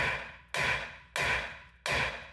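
A hammer strikes the steering knuckle on a 1994 Chevy K1500 front suspension: three loud, evenly spaced metallic blows, each ringing out briefly before the next, with no voices.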